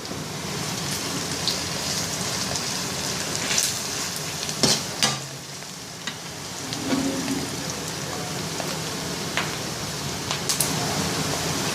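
Onions fry with half a spoon of salt in a pan for a ridge gourd fry, a steady crackling sizzle broken by sharp spoon scrapes and knocks against the pan, with no talk.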